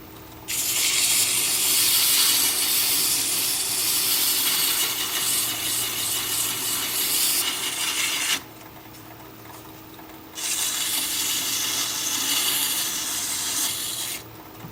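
Sandpaper at 120 grit rubs against an ironwood goblet spinning on a woodturning lathe run in reverse at about 350 rpm, producing a loud, steady hiss that drops out for about two seconds near the end before resuming.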